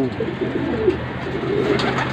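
Racing pigeons arriving at the loft after a race from Pasacao, Camarines Sur: soft low cooing over a steady outdoor background, faint and continuous, with no voices.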